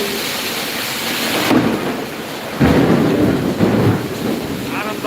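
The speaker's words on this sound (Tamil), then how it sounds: "இடி அடிக்குது" Thunder rolls during heavy rain, with loud deep rumbles breaking in twice over a continuous hiss of rainfall, close and powerful.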